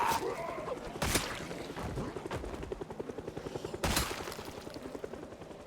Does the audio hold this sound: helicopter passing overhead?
yes